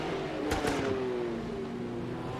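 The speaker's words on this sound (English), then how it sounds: "You can hear a nice roar of the V12." A BMW V12 Le Mans prototype race car in Project Cars 2 at Mazda Raceway Laguna Seca, a steady loud engine roar with a sliding pitch as it changes speed, alone without talk.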